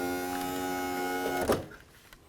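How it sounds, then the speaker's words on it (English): An electric window regulator in a Toyota Tundra door lowers the window with a steady whirring motor hum that runs for about a second and a half, then stops with a soft thunk, heard close and alone. "we need to power the window regulator down so that we're going to be able to bring the window down"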